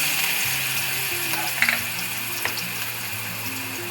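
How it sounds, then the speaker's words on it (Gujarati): Fenugreek (methi) leaves sizzle steadily in hot oil, a constant crackling hiss with a few soft clinks of stirring, close up and without talk. "હવે આપણે આ ભાજીને જરીક તેલ મૂકી અને સાંતરી લઈશું"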